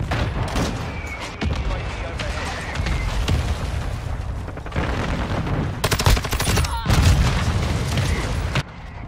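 Grenade explosions and gunfire in a multiplayer shooter video game: repeated heavy booms and rattling bursts of shots in a dense, continuous barrage, with a player talking over the combat.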